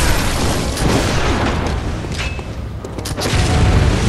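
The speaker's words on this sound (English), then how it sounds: "He's not shy to use that gun." Father Gascoigne fires his gun in Bloodborne: booming blasts and bursts ring out over a rumbling, noisy battle bed, with a sharp cluster of pops near the middle.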